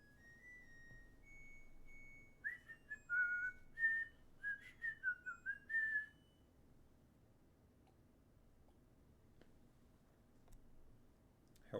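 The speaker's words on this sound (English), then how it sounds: "Hope my whistling wasn't too piercing a sound" A person whistles a short wandering melody of high clear notes, close and fairly loud, for a few seconds before falling silent against a quiet background.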